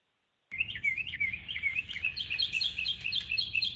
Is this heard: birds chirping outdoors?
yes